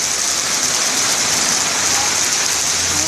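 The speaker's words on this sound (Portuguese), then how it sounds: "Muita chuva aqui em Goiânia" Heavy rain pours down steadily on a street in Goiânia, a loud, dense hiss of water that stays constant throughout with no voices.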